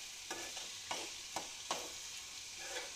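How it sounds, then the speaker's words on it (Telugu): Tomatoes fry quietly in a pan while a spoon stirs them, giving a faint steady sizzle broken by several soft scraping strokes at an irregular pace. "టమాటా చక్కగా వేగిందా లేదా చూస్తున్నాం."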